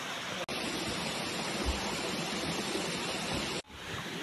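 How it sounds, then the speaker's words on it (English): The Jibhi waterfall in the Kullu Valley of Himachal Pradesh gives a loud, close, continuous broadband roar of falling water, briefly interrupted by two short dropouts. "This is the waterfall."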